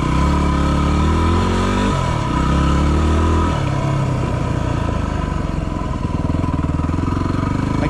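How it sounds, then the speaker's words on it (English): A motorcycle fitted with Shinko MX216 tires idles and revs on the street, its loud engine note close by, rising and dropping in pitch over a few blips before settling into a steady, rumbling run. "I gotta be careful running this bike too long on the street"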